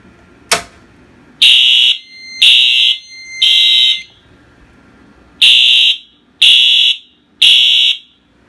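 Fire alarm test sounding a code 3 temporal pattern: a brief click, then two groups of three harsh, shrill blasts separated by a pause, loud and close with no voices.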